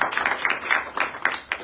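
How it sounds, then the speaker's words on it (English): An audience at a bhakti satsangh session claps for a dholak player in a short, dense burst of applause, close and moderately loud. "Give him a lovely round of applause."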